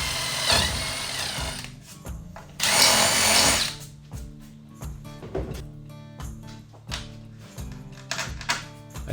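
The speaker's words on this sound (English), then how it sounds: "we mark the location of the stand-up block and drill just 1 hole" Power drill boring a single hole for a stand-up block on a sailboat deck, two loud close bursts of drilling separated by quieter clicks and handling knocks.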